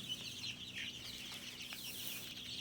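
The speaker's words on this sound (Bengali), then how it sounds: "মুরগিগুলোকে খাবার দেওয়া হয়েছে, ওরা খুব সুন্দরভাবে খাবার খাচ্ছে।" Around three hundred chickens in a winter poultry shed cluck and chatter in a dense, steady chorus while pecking at feed from feeders, with no voices.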